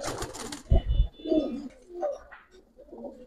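Colouring pigeons cooing in a close, soft sequence of throaty coos and murmurs, with a brief rustle at the start and no talking.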